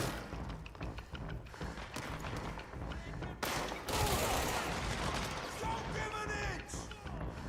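Gunfire in the video game Control, dense bursts of rapid shots and thuds with a louder stretch of firing in the second half, while a voice talks over it.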